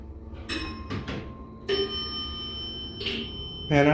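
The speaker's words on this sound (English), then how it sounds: "Man, I love the sound of those bells." A few bright electronic bell tones chime at intervals on a Metro-North platform at Riverdale station, clear and fairly close, with faint ambient noise between rings.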